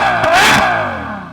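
A 2014 Ferrari FF's naturally aspirated front-mid-mounted V12 blips in a single loud, close rev that climbs sharply, then falls away with a smooth, ringing decay.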